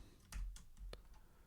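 A handful of faint, sparse keystrokes click on a computer keyboard, irregular taps spread over about a second and a half against a quiet room hiss.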